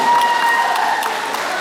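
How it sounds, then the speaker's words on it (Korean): Audience applause for the Anyang city choir at a concert, a steady dense wash of clapping throughout, fairly loud and even with a faint sustained tone beneath. "여러분들 다시 한 번 안양시 창의 합창단에게 뜨거운 박수 보내주시고요"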